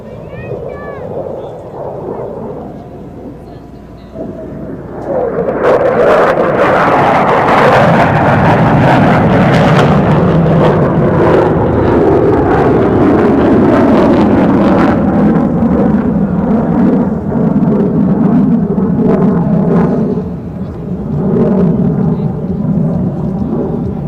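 F-15 Eagle fighter jet powered by twin engines performs a high-speed climb at an air show demonstration, a loud sustained roar surging in at about five seconds and sweeping downward in pitch as it passes, with possible announcer talk underneath.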